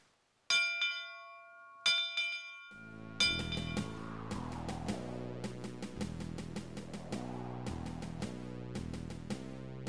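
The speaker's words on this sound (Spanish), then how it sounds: "Ya comenzamos con el toque simbólico de la campana de la locomotora La Cueca." The bell of the locomotive La Cueca is struck in a symbolic ceremony: two clear, separate rings at the start, then a long run of rapid, steady peals that continues to the end, loud and close.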